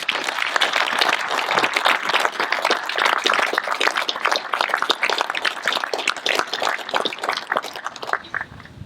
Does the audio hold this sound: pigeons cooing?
no